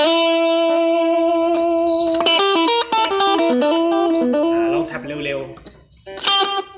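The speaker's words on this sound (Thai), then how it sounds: "อ่าเสียงดีเลย์มันก็จะยาวตามนี้" An electric guitar on a NUX Mighty Lite BT mini Bluetooth amp plays single notes with a long delay effect, each note repeating as echoes. Someone speaks over the last part as the guitar fades.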